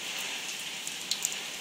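Rainwater leaks inside a house during a thunderstorm, giving a steady hiss of falling water and spatter with a few sharper drips standing out near the end, alone and at moderate level.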